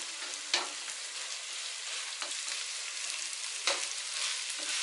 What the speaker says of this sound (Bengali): আমি এই পাশটাতে ডিমটা দিয়ে দিব। ডিমটাকে একটু ঝুরা ঝুরা করবো